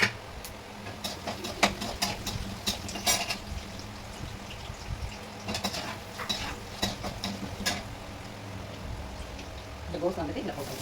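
Fenugreek, cumin and mustard seeds sizzle in hot oil in a pan, with scattered sharp crackles and pops plus utensil clinks over a low hiss, while a person talks alongside.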